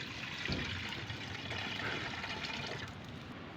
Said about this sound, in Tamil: பாலை ஊற்றிக்கிடுவோம் அரை லிட்டர் பால்